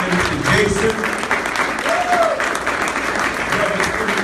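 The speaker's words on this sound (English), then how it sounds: "Let's give a wonderful round of applause to Brother Student Minister Jason" An audience at a Nation of Islam-style ministry gathering breaks into loud, steady applause, with scattered voices calling out over the clapping throughout.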